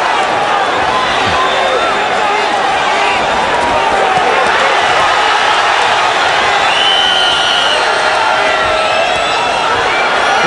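A boxing crowd cheers and roars throughout a bout between Daniel Santos and Antonio Margarito, a dense, sustained wall of arena noise heard at a distance.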